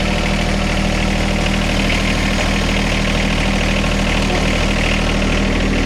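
A John Deere 1025R compact tractor idles nearby, its engine a loud, steady, unbroken drone with heavy vibration throughout.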